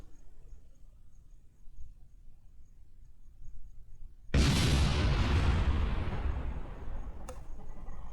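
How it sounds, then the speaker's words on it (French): A sudden loud explosion of a heat shield in Kerbal Space Program bursts in after a few quiet seconds, then a long roaring rumble that slowly fades, with a faint crackle near the end. "le bouclier a explosé"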